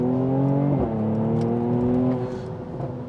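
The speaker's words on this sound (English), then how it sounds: "just listen to those gear changes. The throttle response is insane." A Mercedes C43 AMG pulls hard, its engine note climbing loudly before a sharp drop at the first gear change, rising again, then easing off near the end, heard from the cabin with no one speaking.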